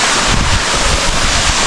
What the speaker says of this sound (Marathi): पाठीमागं बघू शकता मी पाणी वाहतंय. छोटे छोटे धबधबे ॲक्टिव्ह झालेत पावसामुळं.